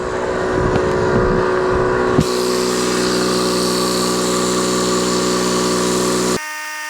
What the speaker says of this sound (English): So now we're gonna inflate it.